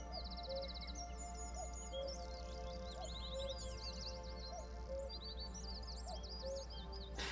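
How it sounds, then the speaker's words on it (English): Birds singing in the trees, with several thin, high chirps and trills repeating across the whole stretch over a constant low hum and steady background, faint and distant, with no voices. "Around you, you can hear the sounds of the birds singing in the trees."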